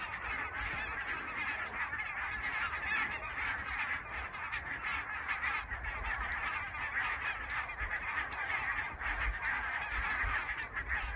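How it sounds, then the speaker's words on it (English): A large flock of geese honking as hundreds of birds fly over near Saint Cuthbert's Cave, a dense, continuous chorus of calls that holds steady and fairly loud throughout with no talk. "there's hundreds of birds flying"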